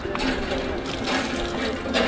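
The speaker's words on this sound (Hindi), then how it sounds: "यहाँ पे हेडपम्प भी है, ये उखाड़ेगा इसको अभी, चला हेडपम्प चला चल" Water gushing from a hand pump worked at an outdoor stop on a road trip to Haridwar, a steady close splashing flow with faint voices in the background.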